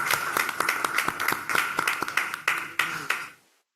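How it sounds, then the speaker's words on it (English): Scattered clapping from a modest group at a school board meeting, with distinct individual claps in an uneven rhythm, moderately close, that thins and stops abruptly at the end. "can we give a round of applause for all of that great news?"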